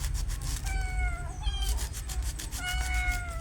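Kittens meowing in expectation of fish, several thin, rising cries in two or three bursts over a steady low hum, fairly close, with no one talking.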